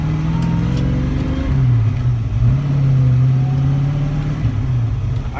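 A forged 408 Cleveland engine idles steadily after a cold start, a loud, close, low rumble with a deep hum that rises slightly in pitch partway through, then holds.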